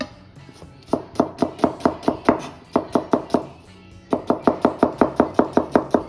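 A knife dices one small yellow onion on a cutting board in quick rhythmic runs of sharp chops, about a dozen close strikes with short pauses between bursts, near and clear with no talking.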